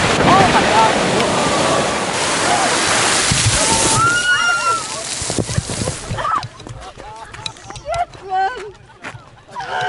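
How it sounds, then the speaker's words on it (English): Strokkur geyser in Iceland erupts nearby, a loud rushing wash of spraying and falling water with wind buffeting the microphone, thinning out into splashes and spatters as people talk. "By the geyser. It sprayed so much water."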